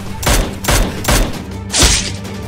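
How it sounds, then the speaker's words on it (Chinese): Loud, close gunshots from a live-action PUBG-style battle game crack out in an evenly spaced series of four heavy booming blasts. "下面有枪声"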